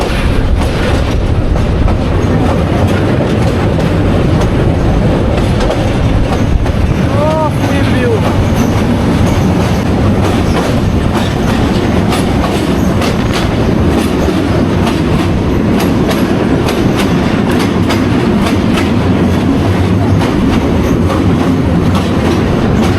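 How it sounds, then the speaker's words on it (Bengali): The Parabat Express passenger train runs loudly on the rails between Dhaka and Sylhet near the Meghna river, with a continuous heavy rumble, rhythmic clickety-clack of wheels and brief squeals heard from aboard. "3 মিনিটের ভিতরে আবার ট্রেন ছেড়ে চলে যাবে"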